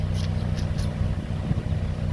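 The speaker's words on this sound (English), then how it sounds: "so that's the stock exhaust there" A Mazda Miata NC engine running with its stock exhaust, idling without load: a low, even rumble close by, fairly quiet and steady, with a few faint high clicks early on.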